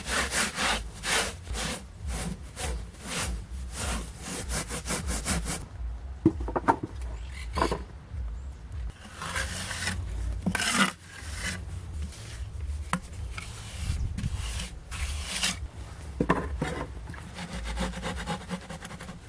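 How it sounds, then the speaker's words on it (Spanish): Wet sponge rubbing and smoothing the joints of clay tiles on a clay tandoori oven, a steady scraping, wiping rhythm of repeated strokes with brief pauses, close and moderately loud without talk. "ahora con una esponja húmeda empezás a limpiar y emparejar"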